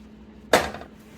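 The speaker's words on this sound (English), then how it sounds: "I'm going to get a frying pan out." A single metallic clank as a frying pan is pulled out in a home kitchen before cooking chorizo, a sharp close hit followed by a brief ringing rattle.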